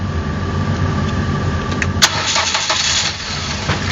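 A 2007 Ford Focus SES with a 2-litre engine, slow to start and reluctant to rev, cranks and fires up into a loud, close, steady idle with a rough, rumbling running note.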